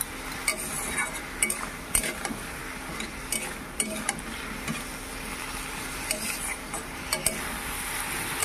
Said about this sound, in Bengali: তো যতক্ষণ না এই আলুগুলি থেকে তেল ছেড়ে দিচ্ছে ততক্ষণ পর্যন্ত ভাজতে থাকবো।